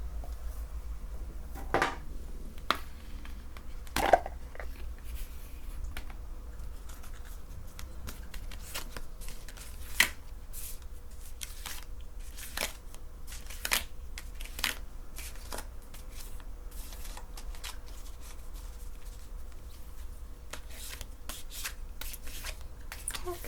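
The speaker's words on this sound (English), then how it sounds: "do a little casual chat while I'm shuffling." Tarot cards shuffled by hand for a full-moon eclipse card reading, a soft steady riffling and rubbing with scattered sharper card snaps, close and quiet over a low room hum, with no talking.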